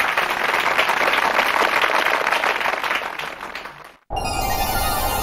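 Applause breaks out for a contestant after a round of an Urdu quiz show, a dense, steady clapping that holds loud for about four seconds, cuts off abruptly, then resumes briefly.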